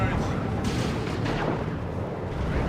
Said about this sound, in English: Tactical Marines using their Kraken bolts to try and shoot down the Sentinel